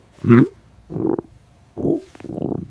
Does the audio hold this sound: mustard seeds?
no